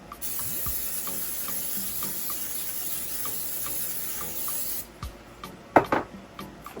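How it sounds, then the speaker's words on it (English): A continuous close hiss of pan butter cooking spray onto a muffin tin runs for several seconds, then stops, followed by a few light clinks and taps. "spray my muffin tin with this pan butter spray"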